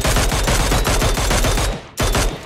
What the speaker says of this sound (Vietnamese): Đây, tiếng súng bắn ra đây mà.